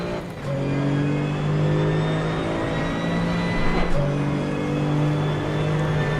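A Porsche GT2 race car with a rear-mounted engine and rear-wheel drive in Assetto Corsa Competizione, its engine droning loud and steady close up with pitch shifts as it revs, dips and climbs again.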